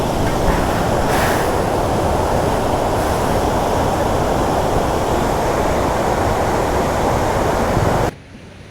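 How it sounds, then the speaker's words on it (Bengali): Heavy rush of a strong river current at Rondiha Dam, a loud continuous roar of water with wind buffeting the microphone, cutting off abruptly near the end. "ভাই জলের স্রোত আছে, জলের স্রোত আছে, হেভি স্রোত আছে।"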